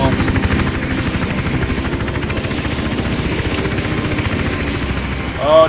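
Helicopter in the game Hitman: Absolution, a steady loud rotor chop and engine drone running throughout, with a brief rising tone near the end.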